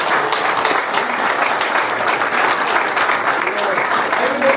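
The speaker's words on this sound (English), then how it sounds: "Let's give Janet a round of applause." Dense, continuous round of applause from a crowd at a police department promotions and new-hire ceremony, loud and even throughout with faint voices blended underneath.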